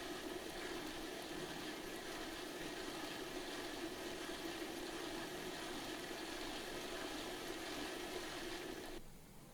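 O gauge model steam locomotive, a 3MT, running on a rolling road, giving a steady mechanical whir and roller hum at an even level throughout, then dropping off abruptly near the end.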